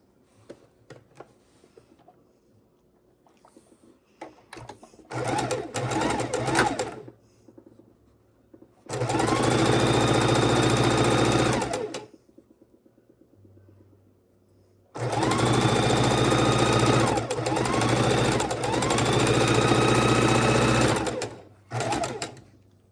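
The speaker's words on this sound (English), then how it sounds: "let me go ahead and thread the machine, and we will keep on sewing" Sewing machine stitching quilt fabric scraps, running in two long bursts of steady whirring with rising and falling speed, separated by quiet handling noises and a short lull.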